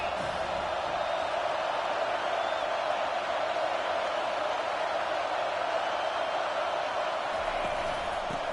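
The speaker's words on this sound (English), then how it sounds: "this crowd is turning it up a notch" Football stadium crowd at an Ole Miss vs TCU game, a steady, dense roar of cheering that holds at an even level throughout.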